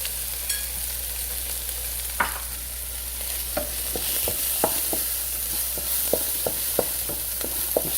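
Fennel seeds and turmeric powder sautéing in a pan with a steady frying sizzle, while a utensil stirs and scrapes in regular light knocks; close, with a constant hiss underneath and no talking.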